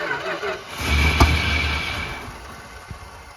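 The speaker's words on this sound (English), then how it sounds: "A little backfire." A classic Plymouth Fury III cranks and catches after sitting overnight with its ignition coil rewired, and one sharp backfire pops mid-start before the engine settles into a fading idle, with a voice briefly heard.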